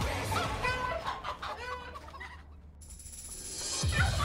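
A chicken being put under a hypnotist's spell gives a run of close clucking calls, falls quiet for a moment amid soft background hiss, then clucks again near the end.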